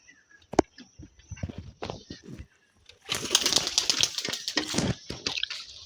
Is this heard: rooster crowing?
no